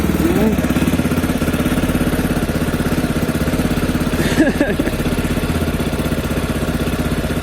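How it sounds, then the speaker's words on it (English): A CSC RX3 motorcycle engine idles steadily close by, its single-cylinder putter holding an even, unbroken rhythm throughout, with a brief louder blip midway. "I'm gonna let her settle down, and then I'm gonna see where she idles at."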